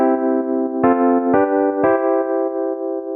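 Progression of first, fourth and fifth triads played as sustained, clean chords, with a new chord struck roughly every half second to second and the last held to the end; close, clear, and without any voice.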